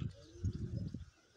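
Pigeons coo softly in a few low, rounded pulses after drinking water, faint and close, with quiet background noise and no voices.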